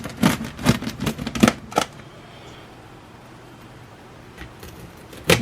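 A knife or cutter crunches through a spicy sausage and tomato thin crust pizza, several quick crisp cuts in a tight cluster, then a quiet stretch before two more cuts near the end.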